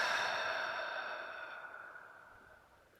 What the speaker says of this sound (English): And a clearing breath out.